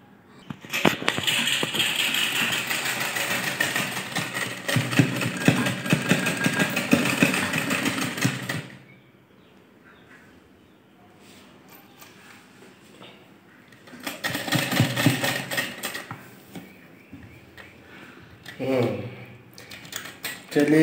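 Sewing machine stitching the side seams of a blouse, its dense mechanical whir running loud and steady for about eight seconds, pausing under quieter sounds, then starting again in shorter bursts near the microphone.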